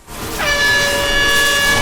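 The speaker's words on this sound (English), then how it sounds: "added an air horn effect to the show special announcement for when to jump option" A single loud air horn alert in World of Warcraft sounds after a brief rising swell, held steady with a bright, brassy tone.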